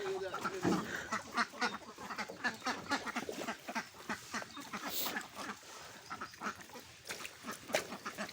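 A flock of farm ducks quacks continuously in a dense, overlapping chorus around feeding time, with a person speaking faintly underneath.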